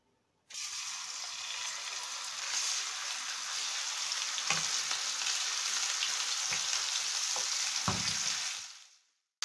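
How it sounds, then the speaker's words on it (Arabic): Garlic frying in oil in a pan, a sudden loud hiss as it goes in, then steady dense sizzling with a few soft knocks of a utensil, cutting off near the end. "بنجيب طاسة زي ما حضراتكم كده شايفين، بنحط فيها زيت، وبننزل"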